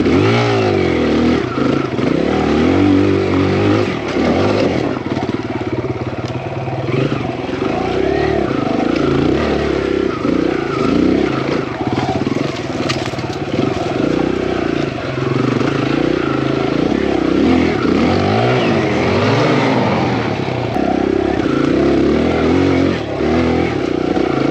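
A Kawasaki KLX140RF dirt bike climbs a hill, its engine loud and close, revving and straining continuously with rough clattering throughout.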